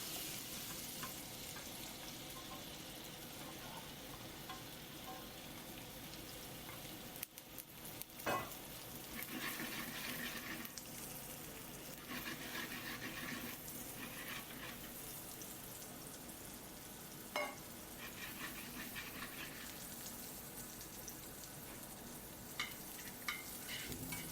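Butter melting with olive oil in a hot pan sizzles faintly and steadily, with occasional stirring clinks and utensil taps in a quiet restaurant kitchen, with no voices over it.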